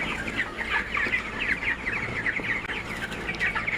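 Poultry chickens kept on the ground floor of a shed cluck and squawk continuously, a dense overlapping chorus of many birds close by with no talk.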